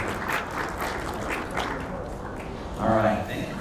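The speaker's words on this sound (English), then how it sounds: "Let's give them a round of applause" An audience at a veterinary congress applauds, a steady wash of many hands clapping in a large hall, swelling briefly near the end.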